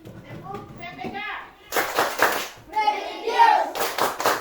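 Children in a classroom clap together in a steady rhythm after a short stretch of talk, the broadband claps loud and close and mixed with young voices.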